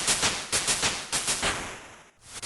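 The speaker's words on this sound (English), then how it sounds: "That classic fireworks display exploded across my screen" Level-up fireworks display in Old School RuneScape, a rapid series of loud crackling bursts and pops in quick succession, then a brief drop to near silence.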